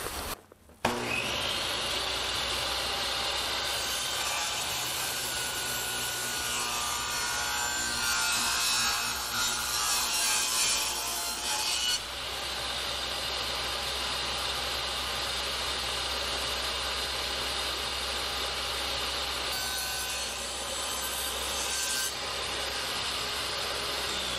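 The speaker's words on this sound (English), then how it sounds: "Now I gotta make a slit this way. We're gonna cut out this chunk." A continuous loud, rasping cut through wooden corner trim during a kitchen renovation, as a chunk is sawn out. The steady grinding runs without pause for over twenty seconds, close by and with no speech.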